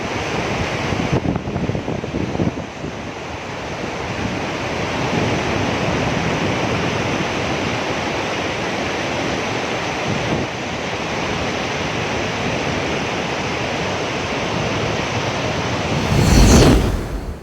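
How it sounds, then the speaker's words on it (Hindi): The Sindh River at Sonmarg, Kashmir, roars steadily and close, a dense continuous wash of flowing river noise with wind buffeting the microphone. "यह बहती हुई सिंध नदी अपना कलकल आवाज करके संगीत सुना रही"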